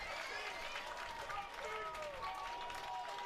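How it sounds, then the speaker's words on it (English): Chatham Anglers fans clapping in the stands at a Cape Cod Baseball League game against the Bourne Braves, faint, distant, steady applause from a crowd, with a commentator talking over it. "Chatham fans still clapping."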